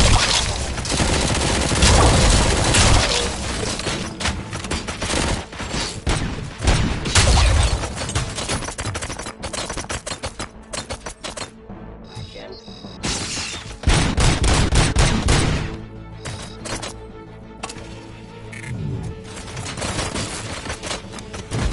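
Gunfire in a Robocop video game crackles in dense, loud bursts of rapid shots and fusillades, separated by brief lulls before the firing resumes.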